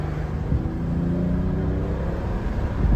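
A 2WD Volvo XC90 with a 3.2 inline-six idles and runs with a smooth, steady low hum and faint whir, close and even throughout, with a slight swell near the end.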